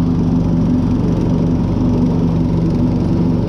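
Quad bike engine droning steadily while mowing a lawn, a loud continuous mid-low hum with no breaks and no voices.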